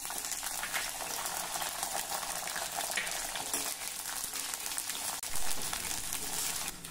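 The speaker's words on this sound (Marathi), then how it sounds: "आता फ्लावर देखील तळून घेऊया" Cauliflower florets frying in hot oil make a steady, fairly quiet bubbling sizzle that continues unbroken, with one brief stir or shift near the end and no voices.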